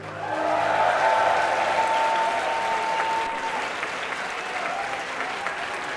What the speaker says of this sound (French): faites du bruit ce soir pour le créateur de ce jeu, Enki Bilal, qui est juste ici.